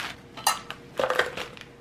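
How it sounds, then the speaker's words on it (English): Two short bursts of crunching and grinding as pecans are crushed under a measuring cup, close up with brief pauses between. "I'm going to be using a measuring cup to smush it like this."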